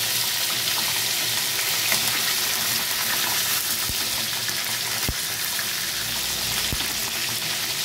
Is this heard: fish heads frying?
yes